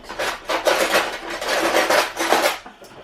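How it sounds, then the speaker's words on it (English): Metal spoon stirring juice in a glass, a run of close, bright clinks and scrapes against the glass that rises and falls in quick rhythmic bursts before stopping. "And give it a bit of a stir."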